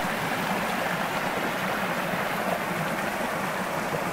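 Water from a mountain stream near Linchamp rushes past close by, a steady, full broadband roar with no breaks throughout.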